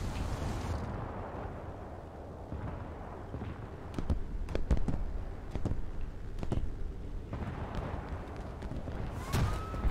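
Anti-aircraft tracer fire in a World War II naval air attack game set at Taranto, heard as a rumbling wash of distant gunfire with sharp bursts and crackling pops that grow denser midway, ending with a rising whistle.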